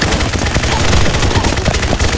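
Rapid, loud gunfire from the first-person shooter game Combat Master, a dense continuous burst of automatic shots filling about two seconds with steady rhythm and no pauses, close and up front with no speech over it.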